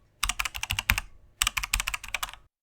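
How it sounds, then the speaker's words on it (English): Typing on a computer keyboard: two quick bursts of crisp, close key clicks separated by a short pause, with no voices. "his fingers dancing across the keyboard"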